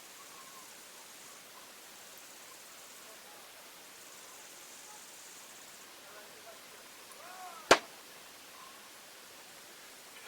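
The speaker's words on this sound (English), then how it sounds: "Just heard my water bottle go pop then." A plastic water bottle gives one sharp, sudden pop in the summer heat at the Crozant castle ruins. The pop stands out against a faint, steady outdoor hiss.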